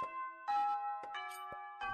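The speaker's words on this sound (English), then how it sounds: "The school bell rang loudly," A video game school bell plays a short sequence of clear electronic chime tones with a few ringing notes, alone and with no voices.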